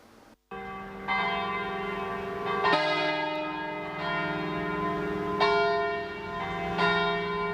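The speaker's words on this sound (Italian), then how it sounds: "Oggi 4 gennaio le campane rendono omaggio alle vittime del bombardamento di Campese di 78 anni fa." Church bells peal continuously, overlapping strikes ringing out loud and resonant, with each new stroke swelling over the lingering hum of the last.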